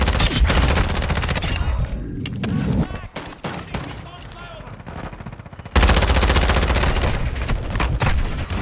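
An ISO 45 submachine gun fires in Modern Warfare 2 on the Shipment map: loud, rapid automatic bursts, then a brief lull with scattered shots, then sustained heavy fire, with game chatter underneath.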